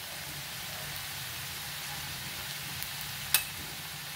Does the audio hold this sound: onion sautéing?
yes